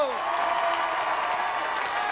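A studio audience applauds a guest on a French TV show, a dense steady wash of clapping that holds throughout at full strength, with a voice briefly audible at the start.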